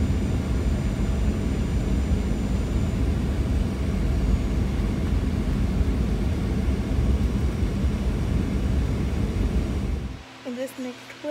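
A passenger airplane lands in Guyana: a loud, steady roar of jet engines and rushing air, heard from inside the cabin for about ten seconds before it drops away into quieter cabin sounds.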